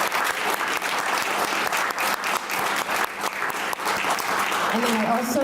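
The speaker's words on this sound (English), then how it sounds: "I just want to again give a round of applause to our representatives" Sustained, loud applause from the audience at a children's health day press conference, dense and continuous throughout, with faint voices at the end.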